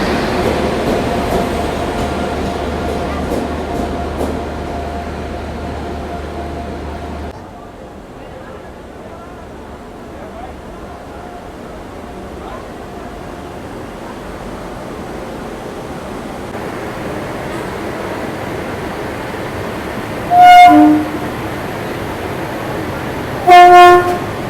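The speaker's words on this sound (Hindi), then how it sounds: "यहाँ अपना आ गया है लोकोमोटिव कानपुर शहर का WP7" A WP7 locomotive arrives at Kanpur station for a locomotive reversal, with a steady rumble of rail traffic and station ambience that eases off midway, then two loud, near horn blasts near the end.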